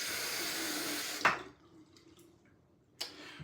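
Tap water runs steadily while rinsing after an against-the-grain shaving pass with an undercut, then cuts off abruptly, leaving a quiet room with a brief splash near the end.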